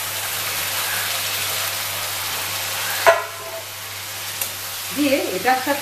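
Boiled mutton for rogan josh drops into a hot, sizzling pan with a dull thud, followed by scraping and stirring sounds; a voice speaks briefly near the end.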